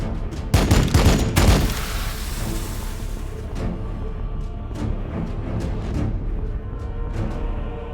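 A burst of gunfire in the strategy game Warhammer 40,000: Battlesector, several loud overlapping shots at the start, then scattered fainter reports and impacts over a steady battle backdrop.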